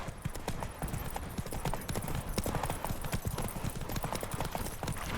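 Geralt's horse Roach gallops in a Witcher video game, rapid hoofbeats pounding in a dense continuous rhythm at moderate volume, with a faint whinny mixed in.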